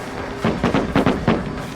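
A quick run of firecracker pops in the video game Dead by Daylight, about eight bursts in uneven pairs, punchy and close over a low background.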